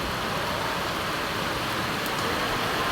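Heavy typhoon rain from Typhoon Carina during flooding, a dense, even hiss that holds steady and fairly faint for the whole stretch, with no voices over it.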